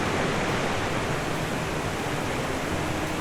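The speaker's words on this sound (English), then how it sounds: "From that gap, meltwater plunges hundreds of feet in a roaring waterfall." Steady, dense roar of glacial meltwater plunging hundreds of feet from an ice wall in a Patagonian valley, a continuous broadband rush without pause.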